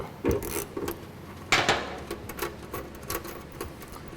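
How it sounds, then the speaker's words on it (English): A bolt is backed out of a riv nut install tool during side step fitting on a 2015 Dodge Ram, giving a series of irregular metallic clicks and ratcheting scrapes, close and moderately loud. "So we'll back the bolt out."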